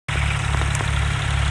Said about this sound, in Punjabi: ਆਹ ਮੇਰੇ ਪਿੱਛੇ ਪੰਪ ਆਈ ਟਰੈਕਟਰ ਵਾਲਾ, ਇਹਨਾਂ ਸਪਰੇਅ ਕਰਦੇ ਹਾਂ ਵੱਡੀ ਪਾਈਪ ਲਾ ਕੇ